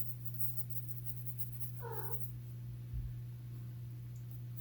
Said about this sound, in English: My cat Boo just meowed